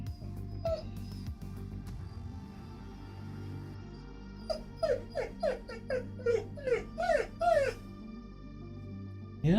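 A sad puppy whimpers and yips in a quick run of high, rising cries, close by, after a quieter stretch with faint background sounds.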